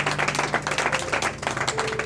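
A church congregation clapping and applauding, steady and dense throughout, with a faint voice underneath.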